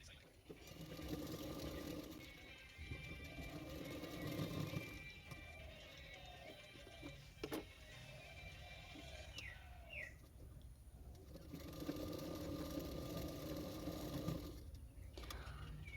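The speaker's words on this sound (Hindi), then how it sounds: "तो देखो मैंने इस तरह से सिलाई कर रही हूँ।" A sewing machine stitching a princess-cut blouse, a faint steady mechanical running hum in long stretches with brief pauses, bird cooing in the background and a voice now and then.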